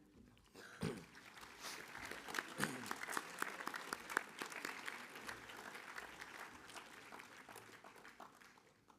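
Applause from an audience at a school assembly, beginning with a few sharp claps and quickly swelling into sustained, steady clapping that keeps going for several seconds before easing slightly at the end.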